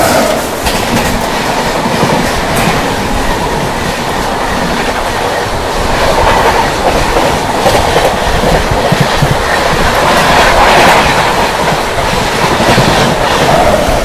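A push-pull Central Railway Rajdhani Express roars past at close range, loud and continuous, with rhythmic clickety-clack of wheels over rail joints and a steady rumble throughout.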